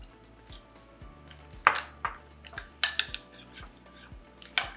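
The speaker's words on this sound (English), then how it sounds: "And then just stir it around." A spoon stirring melted chocolate, butter and whipping cream in a bowl, with quiet scraping and several distinct clinks of metal against the dish in an otherwise quiet kitchen.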